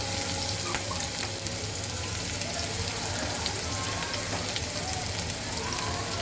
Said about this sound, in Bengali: পেঁয়াজটাকে একটু সুন্দর করে ভাজতে দেব